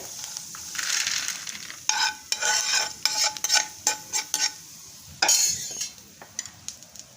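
Fried almonds are lifted out of a pan with a spoon, giving a close series of scraping strokes and light metallic clinks, with a faint sizzle under them.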